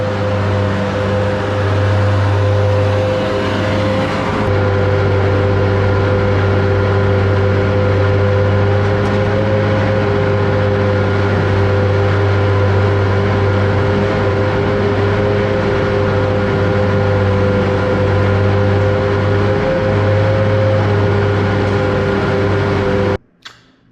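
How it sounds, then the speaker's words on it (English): A skid steer loader runs steadily while pushing feed on a farm in bitter winter cold, its engine drone constant and close, with a strong low hum and tonal whine holding throughout before cutting off at the end. "So I'm gonna go and hop in the skid steer"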